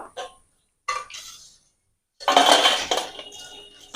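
Fried kathi gaja sweets tipped from a wok onto a metal plate make a loud burst of clattering and clinking, following two brief softer metallic knocks.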